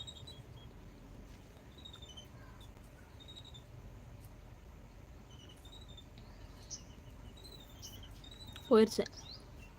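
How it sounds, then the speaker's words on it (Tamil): Sparrows chirp faintly and intermittently at a distance over a quiet background, and a voice speaks briefly near the end. "சத்தம் கேக்குதா? குருவி சத்தம் கேக்குதா?"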